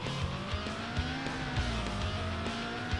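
A Lamborghini in Need for Speed III: Hot Pursuit screeches under hard braking, a continuous wavering tire squeal layered over steady engine roar, loud and close without a break.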